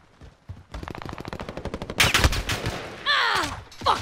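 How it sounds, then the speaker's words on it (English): Rapid automatic gunfire in the video game Call of Duty Modern Warfare, a steady close burst of shots starting after a brief pause, then heavier blasts and ricochet-like whines near the end. "I'm under fire"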